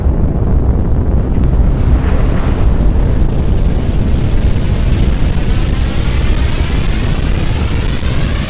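An atomic bomb explosion sound effect, set in 1945 wartime, fills the air as a loud, sustained, roaring rumble with no break and no voices.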